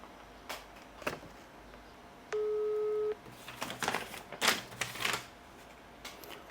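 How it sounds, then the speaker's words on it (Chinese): Keypresses and clicks as a phone call is placed, then a single steady ringback tone lasting under a second, followed by more tapping and handling noises, close and moderately loud. "我给机主打个电话吧"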